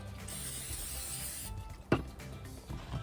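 Cooking spray hisses onto a pie iron in one continuous burst of about a second and a half, followed by a sharp metallic clack and some quieter handling sounds at a campsite.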